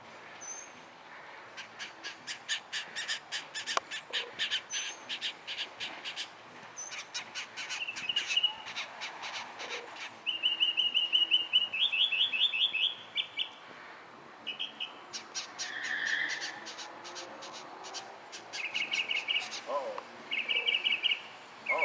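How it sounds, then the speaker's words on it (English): A flock of birds calls and chirps outdoors in rapid repeated bursts, several voices overlapping with some harsher squawks, moderately close over faint background hiss. "I got a bunch of birds now."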